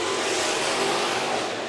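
Race cars roaring around Bakersfield Speedway, a loud, dense, continuous engine drone with several cars close together and no talking.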